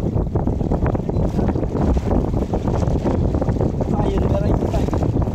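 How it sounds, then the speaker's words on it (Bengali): Strong wind and choppy waves buffet a boat while a shrimp net is hauled by rope on open water, a steady loud rush and buffeting throughout with voices speaking over it. "আর কীরকম ঢেউ, মানে বাতাস আর বাতাস"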